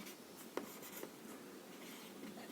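Chalk or marker scratches and taps on a classroom board during a physics lesson, soft close strokes with a couple of sharper taps over a quiet room hiss, and no speech.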